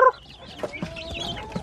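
Native labuyo chickens feeding, giving a few short, close clucks and soft chirps in quick succession.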